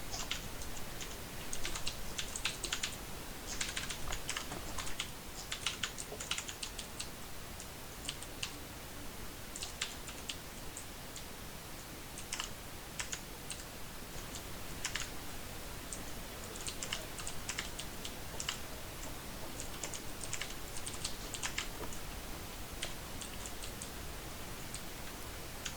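Loud mechanical computer keyboard typing in a room during a live-streamed gaming event: fast, continuous bursts of clicky keystrokes with brief pauses, heard alone and fairly close.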